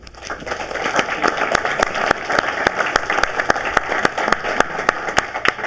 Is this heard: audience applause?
yes